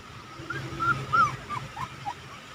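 A puppy whimpers in a string of high, thin whines and yips, close by and fairly soft against a quiet background.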